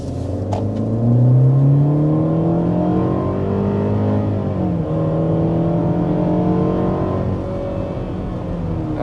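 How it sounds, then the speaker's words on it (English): A 2025 Mercedes GLE 350 with its standard engine under hard acceleration toward 60 mph: a rising engine note climbs through the gears, with a brief dip at a shift, heard steadily from inside the cabin with no talk. "we want to go ahead and start with a hard acceleration"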